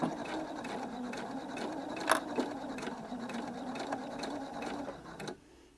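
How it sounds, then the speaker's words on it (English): A sewing machine stitches piping for dressmaking in a steady, close, continuous run of rapid needle clatter that stops abruptly near the end. "I'm just stitching just the other side of that original stitching line there."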